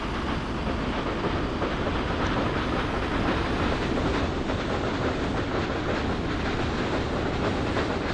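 A heavy 1,137-ton oil train in Workers & Resources: Soviet Republic rolls along on rails with a steady, loud rumble and faint clickety-clack, continuous throughout with no pauses and no voices.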